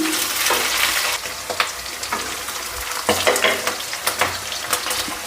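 Seven or eight slit green chilies fry in oil in a pan for vegetable fried rice, a close, continuous sizzle broken by repeated scraping stirs, with no voices.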